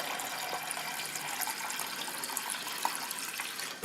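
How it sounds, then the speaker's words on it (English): Tap water runs steadily into a measuring container in a home kitchen while 800 grams is filled for soup, a close, continuous splashing rush with no talk. "turn on the water, and measuring it to 800"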